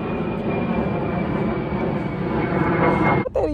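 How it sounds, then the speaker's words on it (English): Steady drone of an airplane passing overhead at a park, loud and continuous before cutting off abruptly near the end with a brief handling noise. "Airplane!"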